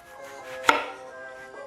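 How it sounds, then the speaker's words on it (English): A single sharp knife chop through a red onion on a cutting board, close and crisp, over a quiet background hum. "Cut and peel 1 red onion."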